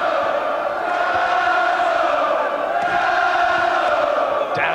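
A boxing crowd roars steadily for Dazzo Williams during his rematch with Roy Rutherford, a loud, continuous wash of voices and chanting that never drops.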